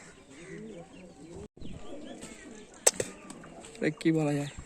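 Pigeons, including female birds of several colour varieties kept for sale at a home, give soft cooing calls; a couple of louder coos stand out near the end over a busy background of other birds and faint voices.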